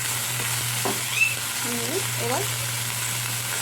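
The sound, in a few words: prawns frying in a pan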